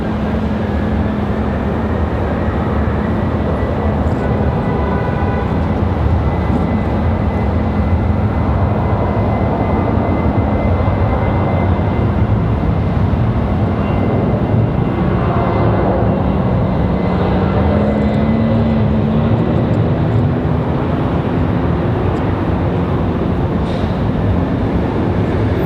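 A FedEx cargo jet departing Raleigh-Durham International Airport gives a loud, steady broadband roar that holds for the whole stretch, with a low engine drone and a slowly rising tone toward the end. No one speaks.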